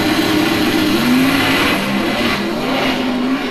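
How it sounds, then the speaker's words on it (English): Drag racing cars accelerate hard down the strip, a loud, sustained engine roar with rising revs, heard from trackside and uninterrupted by any talk. "we took a break for a bit from working to watch some drag racing here"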